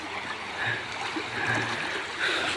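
Clear water in a stream runs under a bridge with a steady, close babbling and trickling rush that holds evenly throughout, with no one speaking.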